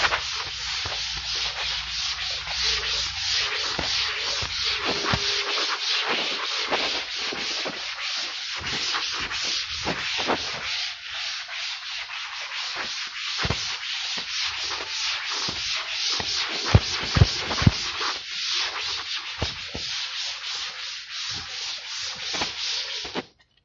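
A duster rubs back and forth over a classroom board to wipe it clean, a continuous, close scrubbing rasp with rhythmic strokes lasting over twenty seconds, with no talking.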